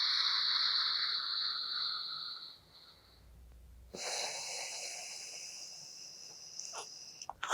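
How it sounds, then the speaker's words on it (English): During yoga breathwork, deep breaths are drawn and released through the nose, a long airy inhale, a short pause, then a drawn-out wheezy exhale, close and clear with no talk. "Inhale. Exhale."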